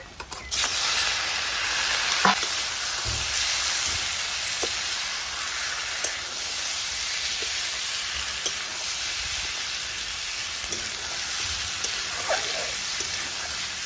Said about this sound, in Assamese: হালধি এতিয়া অকণমান এনেকৈ ভাজি লগাই লওঁ আৰু লগে দি দিম এতিয়া মই মাংস এয়া মাংসখিনি দি দিছোঁ